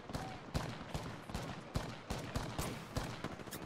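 Rapid gunfire in the battle royale video game Apex Legends during a final-squad fight, with repeated short bursts of shots at moderate level and no talk over them.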